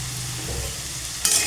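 Potatoes fry lightly in a pan with a steady, close sizzle, and near the end a sharp burst of stirring or spattering briefly brightens the hiss.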